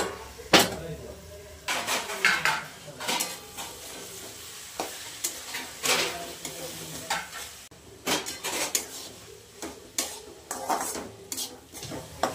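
Tomatoes fry in a pan while a spoon stirs them, giving a series of sharp metallic clanks and scrapes at an irregular rhythm over a soft, steady sizzle, close and moderately loud.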